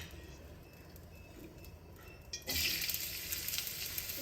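Potatoes frying in sesame oil over a lowered flame: a quiet background hiss that jumps into a louder, steady sizzle about halfway through.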